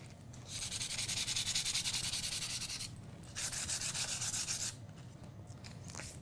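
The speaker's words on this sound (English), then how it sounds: "you could also take some sandpaper and just lightly sand over the top" Sandpaper is rubbed lightly across embossed foil with quick back-and-forth strokes in three distinct sanding passes separated by short pauses. The scratchy sound is close and fairly quiet, with no talking.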